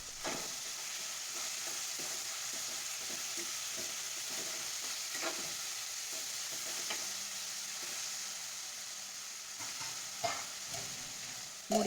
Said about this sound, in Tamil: வதங்குற வரைக்கும் வெயிட் பண்ணலாம்